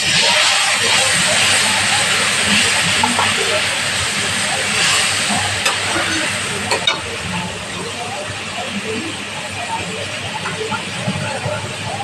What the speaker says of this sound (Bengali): মশলা দেওয়া বাটির জল দিয়ে দিচ্ছি এখানে।